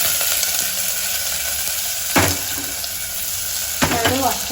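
Chopped onion sizzling in a hot pan with masala, a steady loud frying hiss throughout with a couple of brief clatters.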